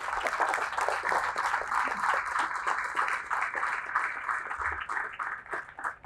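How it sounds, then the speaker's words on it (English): Audience applause at a downtown Aurora apartment development ceremony, a steady crowd clapping that carries on for several seconds and tapers slightly near the end. "Let's give them another round of applause."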